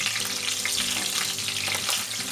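Whole spices and slit green chillies frying in ghee and oil for ghee rice, a loud, dense, steady sizzle throughout with no talk.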